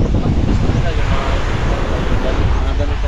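Strong wind buffets the microphone over rushing surf at Buyaran Beach, a loud, constant roar with no breaks.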